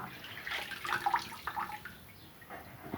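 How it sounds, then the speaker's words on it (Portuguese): An orchid is swished in a fungicide solution, giving soft, close splashing and sloshing water that comes in short bursts for a few seconds with no talk. "mexer para que saia o excesso de fungicida da planta"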